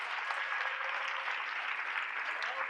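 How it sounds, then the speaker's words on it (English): Steady crowd applause welcomes a couple of speakers onto a stage at a talks event in Barcelona, heard as a thin, distant wash of clapping with no low rumble and even loudness throughout. "Please a big applause for them."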